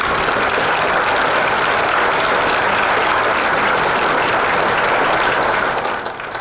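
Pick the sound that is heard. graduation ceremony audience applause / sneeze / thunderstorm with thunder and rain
graduation ceremony audience applause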